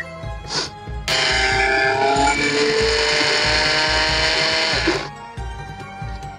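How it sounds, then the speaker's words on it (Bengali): A mixer grinder grinds dry mustard seeds in a loud, steady high-pitched whir, close by, running for about four seconds before it winds down, with a short motor burst beforehand. "সমস্ত সর্ষেগুলো এবার মিক্সিতে গুঁড়ো করে নেবো"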